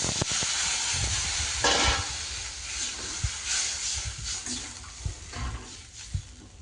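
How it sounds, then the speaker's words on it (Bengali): Water is poured into hot oil with cooked-down spices for a fish curry, producing a loud rushing hiss and steam that slowly eases, with occasional knocks of the pan and spoon. "মশলাটা থেকে তেল ছেড়ে দিয়েছে খুব সুন্দর একটা গন্ধ বেরিয়েছে এবার আমি জল দিয়ে দিলাম"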